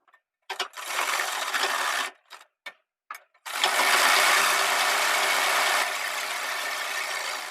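A sewing machine stitches buckram and fabric for a three-year-old boy's kurta, starting with a few short mechanical bursts, then running in a steady close whirring stretch with no talk.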